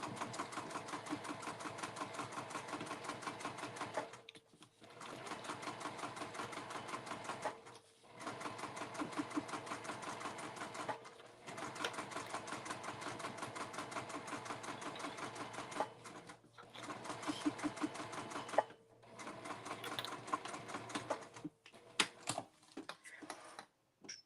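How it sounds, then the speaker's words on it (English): A sewing machine runs a quarter-inch seam on an emoji circle bag in long, steady rattling bursts, broken by several short pauses, close and clear with no talking. "we're going to stitch this other side at a 1/4 inch seam allowance, just like the other one"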